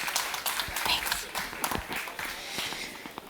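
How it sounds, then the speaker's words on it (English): Conference audience at the Plan ₿ Forum 2024 giving a round of applause, a soft, even wash of clapping with scattered sharper claps, somewhat distant and subdued throughout. "let's give a big round of applause"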